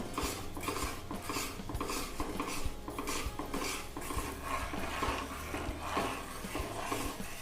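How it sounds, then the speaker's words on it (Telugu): Semolina kesari stirred in a pan with a utensil, quiet continuous scraping and clinking under a low hum, no talk. "ఉండలు కట్టకుండా బాగా మిక్స్ చేసుకోవాలి"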